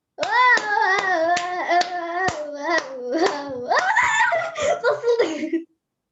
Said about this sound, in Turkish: Alkış yapalım.